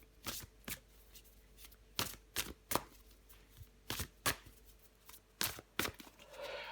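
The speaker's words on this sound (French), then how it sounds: "Je prends encore une carte." Tarot cards being drawn and shuffled from a deck during a reading, a series of crisp, close papery flicks and slaps in an irregular rhythm, fairly quiet with no talking.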